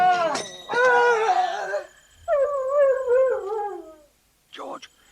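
Several dogs howl loudly and close by in long, wavering, overlapping cries, with a short gap before the next howls and a brief yelp near the end.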